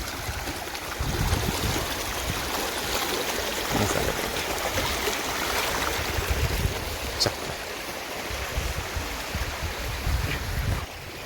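A rocky stream near a tribal hamlet, its flow slightly eased after recent rain, making a continuous broad rushing and gurgling wash, steady and moderately close with no voices.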